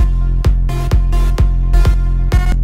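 Electronic dance drop with a bright supersaw lead layered on top, repeating the same chord hits in a steady rhythm over a heavy sustained low end, loud and dense with no voices.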